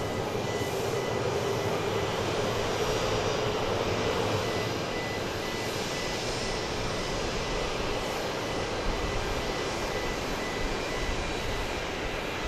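A Boeing 717 jet at Dallas Love Field produces a steady, unbroken engine roar that holds at an even loudness for several seconds, sounding at a moderate distance.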